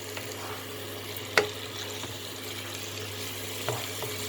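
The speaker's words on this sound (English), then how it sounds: "fry it with the masalas." Chicken pieces with bones fry with masalas in a pan for a curry, a soft, steady sizzle held at a low level, with a couple of faint clinks and stirring sounds; no talking.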